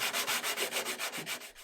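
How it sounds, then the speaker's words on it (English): Rhythmic back-and-forth sanding strokes rub across the wooden surface of a 1930s sideboard being restored, about ten even passes in quick succession, close and steady with no talking. "it's time to do some more sanding"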